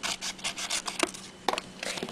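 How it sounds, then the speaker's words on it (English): Scissors cut the flap off a paper envelope, a close series of quick crisp snips and rustling paper strokes, the sounds coming in short uneven bursts with no talking. "you cut the flap off like so"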